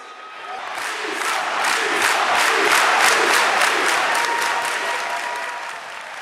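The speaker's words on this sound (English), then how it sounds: "Lisa's name echoed in the crowd as they chanted for strength." A crowd at a Team Lisa dig night roars with sustained applause and cheering, rhythmic chant-like pulses running through a dense, loud wash of many voices.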